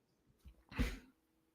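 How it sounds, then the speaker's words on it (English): A single quick sneeze, short and fairly close, rising after a faint intake of breath and fading into quiet. "I sneezed you away."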